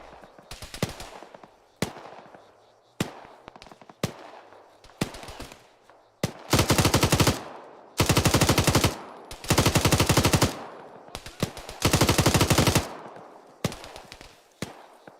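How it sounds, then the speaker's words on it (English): Machine gun fire in the military shooter game Arma, loud close bursts and single shots, starting with short spaced bursts, then long sustained strings of rapid fire broken by brief pauses. "Love this machine gun."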